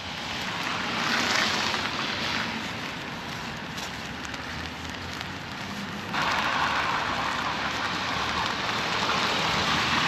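Rain falls steadily in Keflavík, Iceland, a dense continuous hiss of drops on surfaces close by, growing louder partway through and holding there with no voices.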